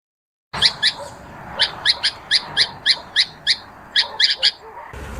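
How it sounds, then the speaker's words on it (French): A red-vented bulbul sings a series of short, bright chirping notes in quick irregular bursts, fairly close and clear against a quiet background. "Le chant que tu viens d'entendre, c'est l'oiseau au ventre rouge."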